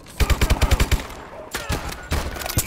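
Video game gunfire rattles in a rapid burst of about eight evenly spaced shots, followed by scattered louder single shots and clatter, close and sharp.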